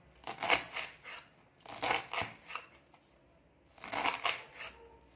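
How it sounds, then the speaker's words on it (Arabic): Swiss chard leaves have their small ends snipped off for an Algerian-style dish, giving three bursts of crisp snipping and crunching, each a quick cluster of cuts with short pauses between, close and fairly quiet. "هاني نقص فيه كيما هكا طراف الصغار"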